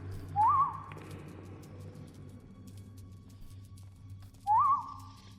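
Two short rising whistles in Skyrim, calling the companion Inigo, spaced several seconds apart over a low steady game ambience hum, clear and close.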